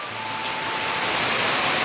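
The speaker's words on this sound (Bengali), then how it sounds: "বাইরে দেখো মুষলধারে বৃষ্টি চলে এসেছে বন্ধুরা" Heavy monsoon rain pours outside a village home as a steady, loud, dense hiss with no break.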